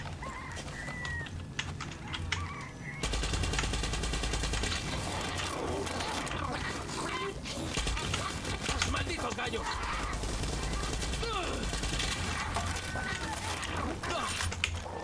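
Rapid bursts of gunfire in Far Cry 6 as roosters are shot, dense crackling shots running almost continuously with game sounds underneath.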